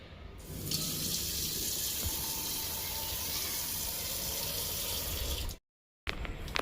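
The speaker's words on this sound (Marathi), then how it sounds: "पाणी ओतून ठेवते" Steady rush of water pouring into a vessel for several seconds, close and fairly loud, then a sudden cut to silence before a brief return.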